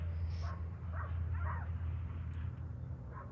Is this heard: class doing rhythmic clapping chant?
no